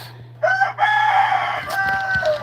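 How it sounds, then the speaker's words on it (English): A rooster crows loudly and close, a long drawn-out call over a steady low electrical hum, with a brief second cry near the end. "Shut your blasting mouth, rooster."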